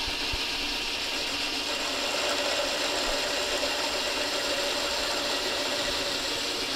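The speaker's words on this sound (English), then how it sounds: "I'm going to cut a little bevel on the lead edge of that." A metal lathe turns while a tool cuts a small bevel on the leading edge of a workpiece before threading, a steady faint mechanical whir with fine gear-like ticking, no talk.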